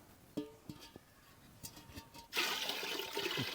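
Water pours into a pot set up for cooking green gram lentils for payasam, a sudden steady rushing splash that follows a few soft knocks and clinks.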